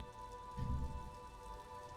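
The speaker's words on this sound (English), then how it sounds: "There's rain in-game, but there's thunder outside, so that's confusing me." Steady in-game rain from Disco Elysium hisses softly and continuously, with a faint low rumble swelling briefly near the start.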